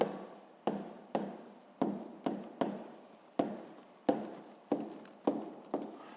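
A pen scratches on paper while writing out a sixth-grade math answer, producing quick repeated strokes with a sharp onset and fading tail, close and soft with no voices.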